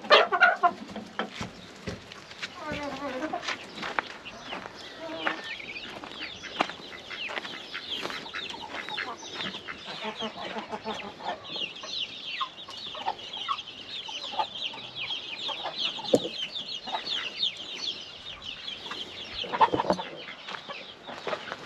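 Chickens in a hobby coop in Taşköprü, Kastamonu, cluck and squawk continuously while being fed, a busy close flock with a person speaking quietly to them now and then.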